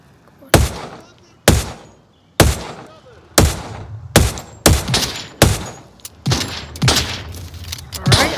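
Pistol fire in the VR shooter Onward: about ten sharp, loud single shots in an uneven rhythm, spaced roughly a second apart and getting quicker toward the end, with no talking.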